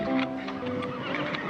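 A horse neighs once, a loud, close whinny that wavers and trails off.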